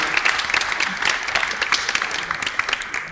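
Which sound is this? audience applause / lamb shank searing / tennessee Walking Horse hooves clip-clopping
audience applause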